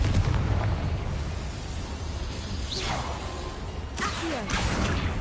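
Confringo blasting spell cast in a Harry Potter video game, heard as whooshing streaks followed by explosive bursts over a constant dense rumble of game noise.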